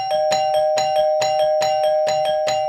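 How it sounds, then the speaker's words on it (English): A doorbell chimes repeatedly in a fast, steady pattern, its ringing tone sustained loudly and close throughout. "The reverse doorbell rings all the time"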